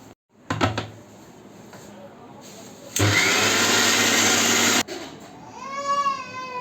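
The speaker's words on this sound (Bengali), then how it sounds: "প্রথমে পেঁয়াজগুলো ব্লেন্ডার করে নিচ্ছি।" An electric kitchen blender grinds onions in one loud, steady whirring burst of about two seconds, set among clunks and handling noises, with a short tonal whine just after it stops.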